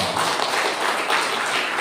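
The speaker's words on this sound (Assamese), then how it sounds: "আমি জোৰকে তালি বজাই ঈশ্বৰক ধন্যবাদ" Congregation at a church service clapping loudly in thanksgiving to God, a dense continuous wash of many hands sustained throughout, no speech over it.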